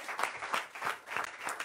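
A few people in a small radio studio clap for Aurélie. The applause is faint and comes in soft, uneven pulses.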